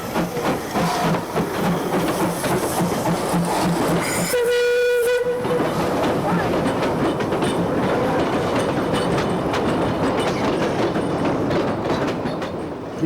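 Puffing Billy, a preserved narrow-gauge steam train in the hills near Melbourne, runs with a loud rhythmic chuff and clatter of wagons over the rails, broken by one sustained whistle blast early on.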